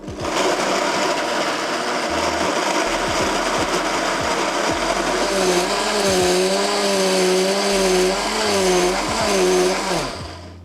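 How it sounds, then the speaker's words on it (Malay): An electric blender grinds garlic, shallots and a little water into a sambal paste, a loud, steady motor whir with a rough churning texture, the pitch wavering and rising partway through as the blade works the mixture. "Dan kisarkan sehingga lumat."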